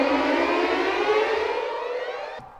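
A string section from the Orchestral Tools Pēteris Vasks chamber strings library plays a glissando, a bright sustained cluster sliding steadily downward for about two and a half seconds before cutting off, alone and without talk.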